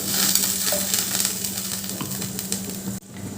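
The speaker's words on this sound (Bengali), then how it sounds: "এবার দিয়ে দিচ্ছে একটু জল" Water is poured into a spice paste with whisked yogurt frying in a pan for a raw papaya kofta curry, giving a steady close sizzle with stirring scrapes. A brief sharp dip comes near the end.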